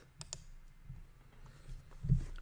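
A couple of quick, light computer mouse clicks sound close by in a quiet room, with faint handling noise and a soft thump at the end.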